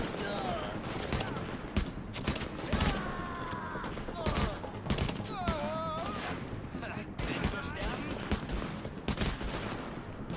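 Rapid bursts of gunfire rattle throughout a cooperative online match of Tom Clancy's The Division, with volleys and single shots overlapping almost continuously while players talk over the shooting.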